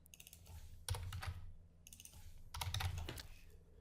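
Typing a short prompt on a computer keyboard comes through as two quick bursts of close, crisp key clicks separated by brief pauses, fairly quiet overall, with no talk.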